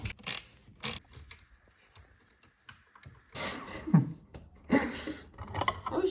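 Sewing machine mechanism spinning with clicking, ratcheting mechanical bursts, separated by quieter gaps and light handling noises, moderately close.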